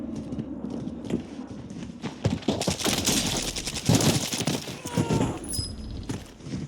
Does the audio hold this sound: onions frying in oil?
no